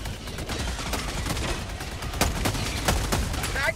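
Rapid automatic gunfire from a deployed sentry turret in the video game Helldivers 2, a dense run of bursts with louder shots near the end, under a faint voice.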